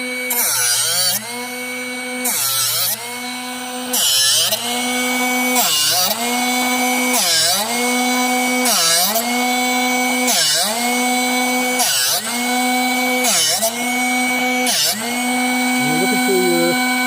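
A Drill Doctor 750x drill bit sharpener running with a steady loud motor whine, broken by regular dips in pitch about every one and a half seconds as the bit is turned against the grinding wheel, close up and with no speech.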